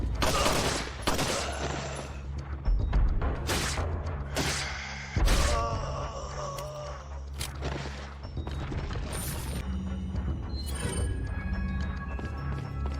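Gunfire against an enemy in Resident Evil 4 Separate Ways, a string of loud sharp shots and heavy thuds spread unevenly over several seconds, with ringing game effects between them.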